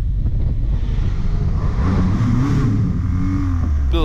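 A car engine roars and revs loudly in a tunnel, a continuous rumbling drone with rising and falling pitch and wind-like noise throughout.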